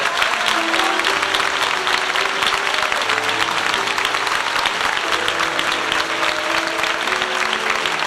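Congregation at a Pentecostal church retreat gives a steady, sustained round of applause, dense and fairly loud throughout with faint voices and a few tonal sounds underneath.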